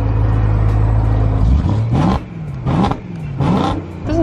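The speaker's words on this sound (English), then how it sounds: "Literally all engine noise. This is how it sounds before." A BMW E92 M3 engine with its stock exhaust, loud and close, first idling with a steady hum and then revved in three or four sharp bursts that rise and fall in pitch.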